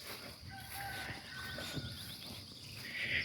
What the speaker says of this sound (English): Hear the neighbors' roosters.